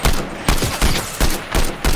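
Combat Assault Rifle burst fire in Fortnite, five or six loud, evenly spaced bursts of rapid shots, close and alone with no talk.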